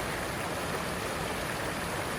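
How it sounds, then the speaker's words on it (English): A waterfall near the Wolf River headwaters rushes in a constant, dense hiss of falling water, steady and fairly close, with no voices. "That's a real nice waterfall in its own right."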